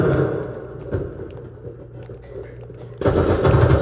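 Gunfire effects from the Call of Duty video game, rumbling bursts of shots sustained over the clip and growing louder and denser toward the end.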